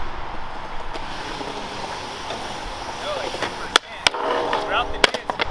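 A skateboard rolls along with a gritty wheel rumble, then gives several sharp cracks and slaps near the end as the board hits the ground. Wind noise can be heard in the background.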